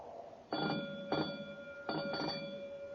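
A fire alarm bell rings in three short bursts separated by brief pauses, loud and close with a steady background hum, no voices, in an old radio drama.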